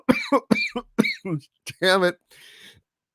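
A person coughs hard after a swig of Elijah Craig small batch bourbon, a rough hacking burst that follows close, near speech, with a muttered curse from the same voice.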